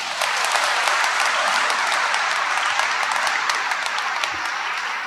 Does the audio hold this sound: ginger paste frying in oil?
no